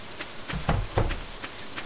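Rain falling in the Stardew Valley video game, a steady soft hiss of drops that swells a few times into brief louder gusts, with no talking over it.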